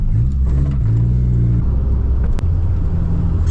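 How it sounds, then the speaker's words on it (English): A Toyota AE86 brakes hard with its rear brakes turned all the way up, so the rear wheels lock; steady loud engine and road rumble dominate, with a brief sharp transient midway. "so when I slam on the brakes, the rears should lock up."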